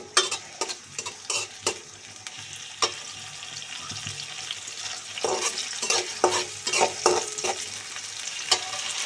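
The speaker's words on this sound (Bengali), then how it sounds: "আমি এটা ভাজি করবো, এই জন্য পেঁয়াজ দিয়ে দিলাম।" Onions frying in a pan for a cabbage stir-fry, a soft continuous sizzle broken by repeated sharp scrapes and clacks of a spatula stirring, close by with no talking.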